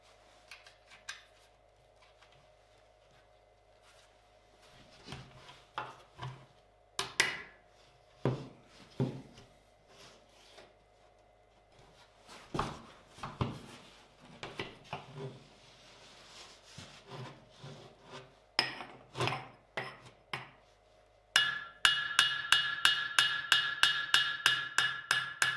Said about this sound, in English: I just start peening the rivet over